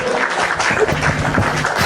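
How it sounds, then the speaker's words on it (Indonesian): Audience applause at a gathering, a short burst of dense clapping from a crowd, fairly loud and steady, with faint voices mixed in. "Masya Allah, tepuk tangan"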